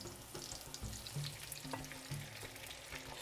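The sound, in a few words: whipped mixture frying over basterma sausage in pan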